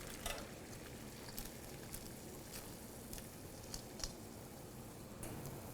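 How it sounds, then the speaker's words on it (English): Carrot matchsticks cooking in a pan of boiling salted water, giving a soft, steady bubbling and patter with occasional small ticks and pops, fairly faint and continuous throughout. "Then I'm going to go ahead and drop my carrot matchsticks into the boiling water."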